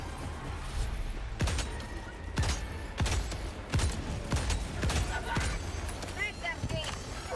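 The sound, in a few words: recoilless rifle firing in a video game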